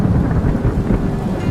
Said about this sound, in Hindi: देखो बारिश बहुत तेज है